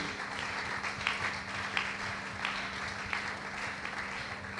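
A church congregation applauds in praise of God, a steady wash of clapping with scattered sharper claps, moderately distant and sustained, with faint voices underneath.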